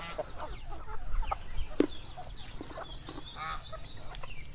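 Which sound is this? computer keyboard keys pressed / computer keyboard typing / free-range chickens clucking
free-range chickens clucking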